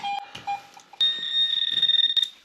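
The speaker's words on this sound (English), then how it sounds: "it's beeping everywhere. I'll try to pinpoint the signal with the detector since it's beeping." Metal detector sounding while searching buried ground near a cave: short repeated beeps at first, then a long sustained high tone with rapid pulsing, close and clear, with no talk.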